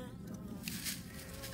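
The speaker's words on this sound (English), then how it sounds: "Man, that is a lot of bees in there." Dense, continuous buzzing from a swarm of wild bees clustered inside a tree, close and steady with a thick hum and no talking.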